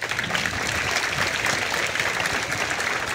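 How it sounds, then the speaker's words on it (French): Guests at a school flag-raising ceremony in Ouakam receive steady outdoor applause, a continuous wash of clapping from a crowd of pupils and adults heard at moderate distance. "Applaudissez aussi les invités ici présents à votre école."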